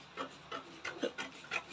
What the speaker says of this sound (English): So I'm going to cut now.